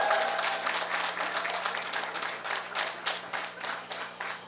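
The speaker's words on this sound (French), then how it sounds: "On les applaudit." An audience applauds the Sisters of Sainte-Anne, a steady wash of dense clapping at moderate distance with a low steady hum beneath and no talk.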